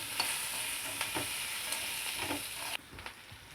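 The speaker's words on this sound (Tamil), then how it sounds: "இஞ்சியும் போட்டு அதில் இது ஒரு 2 நிமிஷம் வதங்கட்டும்." Ginger sautéing in hot oil for a village-style mutton and vegetable curry, a continuous close sizzle with light stirring scrapes that thins out abruptly near the end, no talking.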